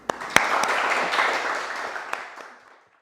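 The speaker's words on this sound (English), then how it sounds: "Let's give Sarah an applause." Brief applause after a hot yoga class demonstration, a few scattered claps over a broad wash that builds then fades out over about two and a half seconds.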